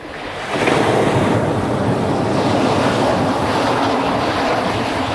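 Continuous rushing surf rolls and washes on a shore, loud and broad, with a windy roar and no clear breaks between waves.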